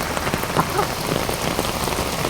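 Heavy rain pours steadily onto flooded streets, a dense, even hiss of drops hitting water and hard surfaces, close and continuous with no voices.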